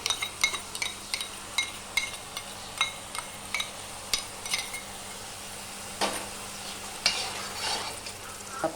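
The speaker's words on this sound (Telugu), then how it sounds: "ఇప్పుడు నెక్స్ట్ అండి టమాటా ప్యూరీ వేస్తున్నానండి. 2 కప్స్ వేస్తున్నానండి." Two cups of tomato puree frying in oil in a pan for a simple paneer curry, with repeated close metal stirring clinks and scrapes over a continuous sizzle, then a louder burst of sizzling near the end.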